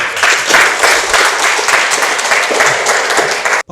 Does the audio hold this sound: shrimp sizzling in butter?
no